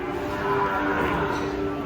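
A long-horned cow moos in one long, steady, low call that fills the whole moment, loud and close, with no talking.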